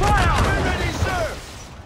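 Ship cannons firing in a naval battle in Assassin's Creed IV: Black Flag, a dense rumbling fusillade of booms under shouted crew voices, loud and continuous before easing off toward the end.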